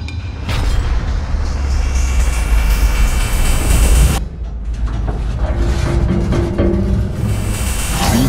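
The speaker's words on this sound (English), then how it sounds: "listen to the motor" A loud, steady electric motor roar from a Ford F-150 electric pickup pulling a train, with a low rumble and rising whine, briefly dropping in tone midway before continuing strongly.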